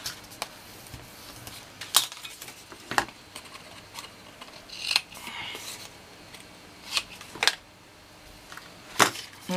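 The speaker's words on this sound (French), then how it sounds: "On marque nos plis et on biseaute." Paper being scored and beveled along fold lines for a handmade craft album, heard as sharp scraping and tapping strokes at irregular intervals, close and moderately loud over a quiet room.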